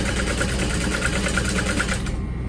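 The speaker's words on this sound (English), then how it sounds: "I just want to sew over that so it doesn't slip through." A sewing machine stitches over piping on a duffel bag, with fast, even needle pulses running close and loud before easing off at the end.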